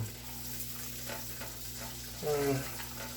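Pecans sizzle in a pan over low heat with a steady, soft frying hiss, then a brief louder scrape and clatter as they're moved near the end.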